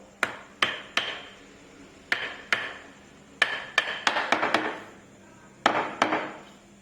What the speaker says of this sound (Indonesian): Nah, ini perlu kita ketok. Sehingga kita tidak perlu menggunakan lem.